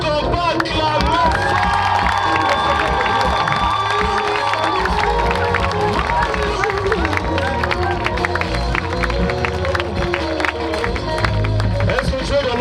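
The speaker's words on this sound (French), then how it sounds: "Est-ce qu'on va acclamer?" A large crowd at an evangelism campaign cheers, whoops and claps continuously and loudly, with a voice amplified over the din and a sustained tonal note running through part of it.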